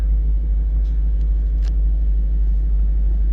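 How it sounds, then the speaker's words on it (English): A 2012 Jeep Grand Cherokee SRT-8 V8 idles shortly after a cold start, giving a steady, deep, continuous rumble that is loud and close throughout with only faint ticks above it. "This is pretty much a cold start, by the way."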